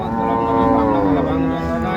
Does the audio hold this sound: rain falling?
no